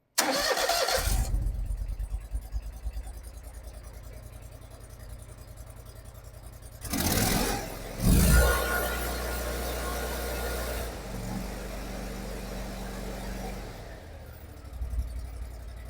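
A zero turn mower engine with a new voltage regulator cranks briefly and fires, then settles into a steady, loud running drone, with a couple of surges in the middle and a slight change in tone near the end.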